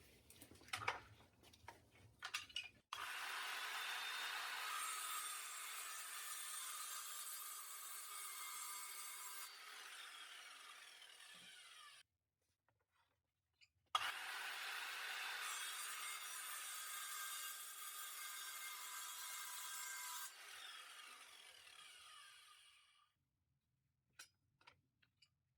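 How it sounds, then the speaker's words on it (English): A mitre saw crosscuts the ends off wooden boards in two long, loud passes of steady whining blade noise, each spinning down into a pause, with a few light knocks and handling clicks between and after the cuts. "I'm just going to use the Mitre saw to take the ends of these off first."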